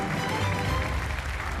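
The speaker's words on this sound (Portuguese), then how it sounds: "Um aplauso para o grande João!" Studio audience applauding a departing contestant on the Portuguese RTP 1 game show The Floor, a brief dense burst of clapping that fills the room evenly from start to finish.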